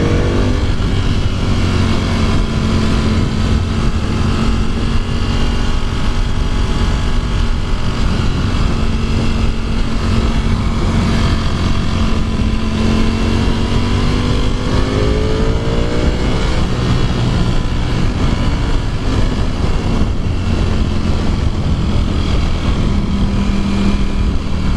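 2018 Ducati Panigale V4S motorcycle cruising on the highway with its engine held low in the rev range, a loud continuous drone with rumbling exhaust and wind roar and slight pitch shifts throughout.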